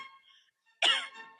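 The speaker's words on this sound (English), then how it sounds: "she started coughing and sniffing after almost choking" A woman gives a single sharp cough after choking on juice, close and brief, following a moment of near silence.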